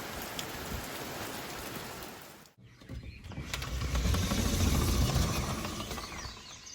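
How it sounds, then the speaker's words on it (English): Steady rain falls across a garden on a Monday afternoon, a dense continuous patter that briefly drops away, then returns heavier and louder, with no talking. "We've got some rain on this Monday afternoon."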